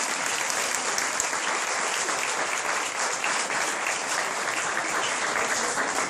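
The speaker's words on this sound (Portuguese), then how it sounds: "Aplauda o Senhor por isso." A church congregation claps together throughout, steady, dense applause filling the room with no pauses or talk over it.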